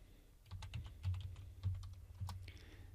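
Rapid, uneven keystrokes on a computer keyboard as a file name is typed into a website address, close and clear with a faint low hum underneath and no talking.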